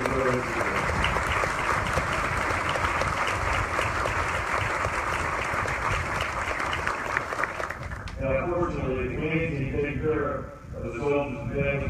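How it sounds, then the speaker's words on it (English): An audience at a 3rd Infantry Division change of command ceremony applauds the soldiers and families in a long, steady wash of clapping. The clapping gives way near the end to a voice speaking over a public address system. "So please join me in a round of applause and recognize our great soldiers and families of the 3rd Infantry Division."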